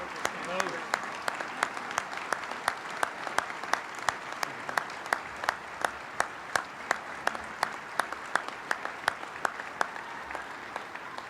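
An audience at a city mayor's state of the city address claps in a slow, evenly spaced rhythm, sharp individual claps repeating about twice a second over a soft murmur of the room and a voice.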